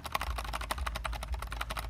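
Rapid typing on the left-side keys of a computer keyboard, a dense run of close, crisp clicks and clacks with no voices.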